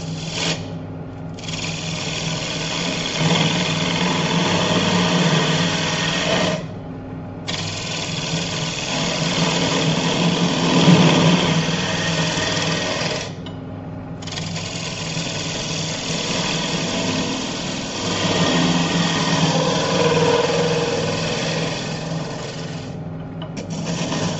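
A spindle gouge cuts under a wooden bird feeder lid spinning on a lathe, making a loud, steady whirring and scraping drone that breaks off briefly a few times, with no voices.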